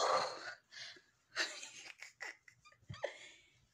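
Heavy, ragged panting after doing the laundry, with quick uneven breaths and gasps heard close and fairly quiet.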